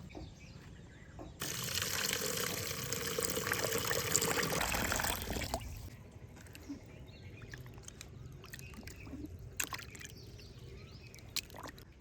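Tap water runs steadily into a sink while a fish with rough, fanged jaws is washed with salt, starting suddenly and continuing for several seconds before fading to quiet trickles, drips and faint handling noises.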